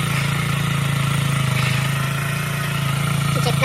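A Kawasaki Z125 motorcycle idles close by on its stock muffler, giving a steady, even low putter that holds at the same level throughout with no voices over it.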